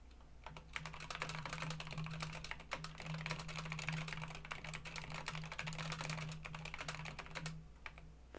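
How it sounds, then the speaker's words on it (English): Fast typing on a computer keyboard, a quick, steady patter of clicking keystrokes heard close and fairly faint over a low background hum. "Hit 100 WPM while typing."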